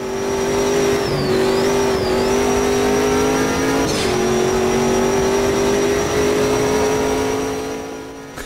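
Engine of an early-1980s Brazilian touring car in the racing game Automobilista 2, holding a loud, steady high drone throughout with a brief pitch dip early on and a short squeal-like burst midway.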